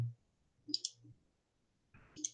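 A computer mouse clicks in two quick pairs, close and crisp against a quiet room with a faint low hum in the background.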